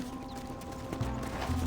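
Horse hooves clip-clop on the ground in the video game Red Dead Redemption, a brief run of muffled footfalls under a steady game ambience.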